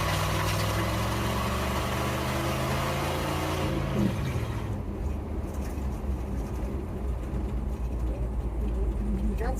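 A Ford F100 pickup engine runs loud with no muffler, a steady deep rumble close by that dips in pitch partway through and then settles into a rough, throaty idle.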